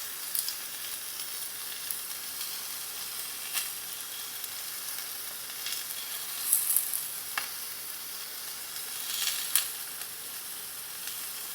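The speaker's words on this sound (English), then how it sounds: "We're going to pop the steak in, and you can hear it sizzle." Steak searing in a hot pan sizzles in a steady close hiss, with occasional louder crackles and spits over the constant frying noise and no talk.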